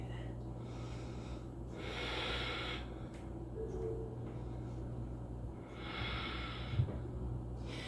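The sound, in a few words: breathing during a yoga twist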